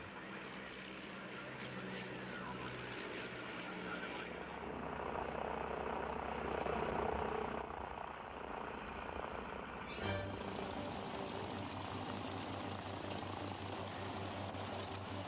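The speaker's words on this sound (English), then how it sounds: "the DH-87 Hornet Moth, a two-seater touring biplane built in 1937." A 1937 DH-87 Hornet Moth two-seater touring biplane flies at an air show, its engine a steady, moderately distant drone that swells slightly midway, heard beneath a voice speaking.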